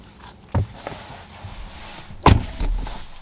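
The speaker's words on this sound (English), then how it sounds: "To open the doors, just push in with your thumb like so" Tesla Model 3 door opened by pressing the flush handle with a thumb and pulling: a soft click near half a second, then a sharper mechanical clack and latch release later, close and fairly quiet over low background hum.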